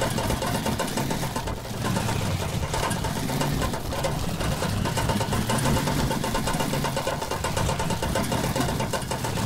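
A truck engine in the Junkyard Truck video game runs without a break, a loud, continuous idling drone with a rattling edge that holds steady from start to finish.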